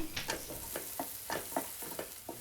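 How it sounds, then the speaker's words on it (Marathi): A spoon stirs peanut powder into a pot of tendli (ivy gourd) masala bhaji, making close, rhythmic scraping and clattering strokes over a faint sizzle, with no voices. "आता घेतोय ढवळून"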